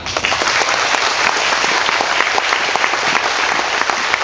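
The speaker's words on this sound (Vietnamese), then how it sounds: "Xin một tràng vỗ tay được không" Loud, dense audience applause during a finance talk, continuous clapping from a large crowd that holds steady and close throughout with no voices over it.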